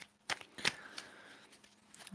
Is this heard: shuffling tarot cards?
yes